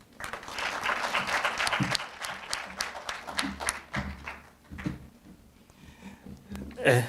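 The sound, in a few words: audience applause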